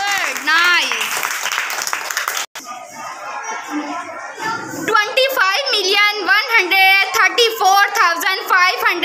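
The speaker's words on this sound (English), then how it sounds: "Clapping." Classroom of children clapping together during an arithmetic lesson, loud bursts of applause with excited kids' voices and chatter mixed in throughout.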